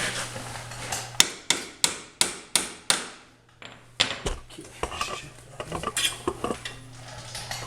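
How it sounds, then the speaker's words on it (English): Sharp metallic hammer strikes punch a metal axle clamp on a Yamaha Grizzly 660 ATV: a run of six evenly spaced loud blows, a brief pause, then a looser burst of lighter taps and clinks close by. "So I'm going to punch that up a bit here."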